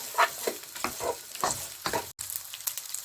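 Cumin seeds roasting in a hot pan for a chicken cutlet recipe, with a close crackling sizzle broken by stirring scrapes and a brief pause; no one speaks.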